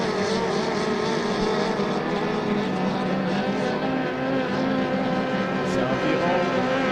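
Honda-engined racing hydroplane at a regatta roars at high power during a race, a loud sustained buzzing engine drone that stays steady and prominent, with some background chatter beneath.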